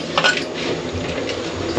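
Spices and a little water are stirred together in a bowl for homemade chicken kebab marinade, with soft clinks and wet squishing sounds forming a close, continuous mixing noise.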